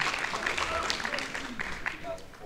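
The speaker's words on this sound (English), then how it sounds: "Let's give a huge round of applause to Sorra, everyone." A crowd applauds a dancer at a fursuit dance competition, giving a steady roar of clapping at moderate distance with cheering and a voice over it.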